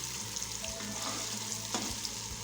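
Okra frying in a pan with spices for restaurant-style masala bhindi. A steady, faint sizzle runs throughout, with a few soft stirring scrapes.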